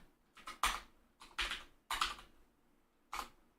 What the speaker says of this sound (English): Oh, what am I typing?